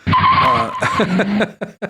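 A 1986 Ford Mustang GT Convertible with its 5-liter V8 and automatic transmission pulls away loudly with a tire squeal and roaring engine, close by, fading into a couple of short bursts at the end.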